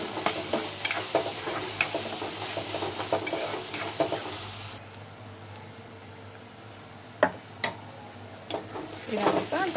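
Ginger garlic paste fries in a pan, sizzling as a spoon stirs and scrapes it in the first half. Then the sizzle drops to a quiet hiss broken by a few sharp taps before rising again.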